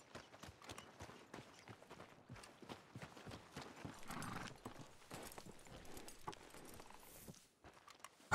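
Horse hooves clip-clop steadily in the Red Dead Redemption 2 video game, a continuous close patter of hoofbeats with faint snorts, fairly quiet throughout.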